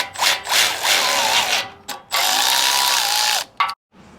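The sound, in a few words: socket ratchet tightening hex bolts on a Jeep bumper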